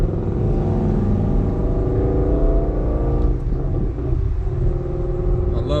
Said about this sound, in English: I love Mustangs, and his exhaust sounds crazy.